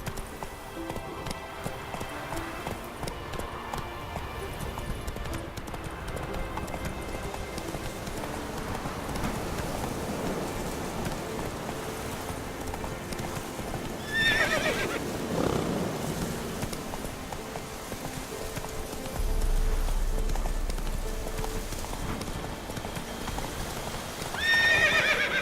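A horse in The Witcher 3: Wild Hunt, its hooves clip-clopping at a steady gallop for a long stretch with loud whinnies and neighs rising over it, close and continuous.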